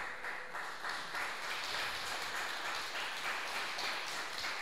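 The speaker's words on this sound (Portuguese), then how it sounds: "As palmas engrandecem o Rei Jesus." Church congregation clapping in praise, a dense, steady wash of many hands sustained throughout at moderate loudness, with no voice standing out over it.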